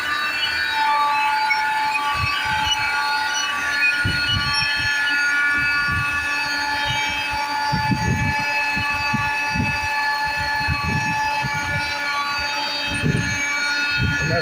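A no-till corn seeder's turbine, fitted with the wrong bearing, whines continuously with several shrill, piercing tones over low rumbling machinery, close and loud throughout, with no voices.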